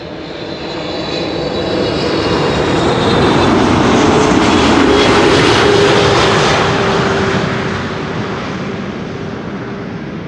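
A Qatar flight lands on runway 06, the Kaagbaan, at Amsterdam Schiphol, its loud jet engine roar swelling as it passes close overhead, then gradually fading for ten seconds with no voices.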